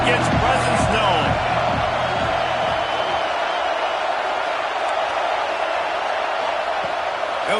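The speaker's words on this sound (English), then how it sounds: "This crowd ready to make its presence known." A football stadium crowd roars in a dense, continuous wash of cheering and shouting, loudest in the opening seconds with a commentator's voice over it, then settling into a steady, far-off rumble of noise.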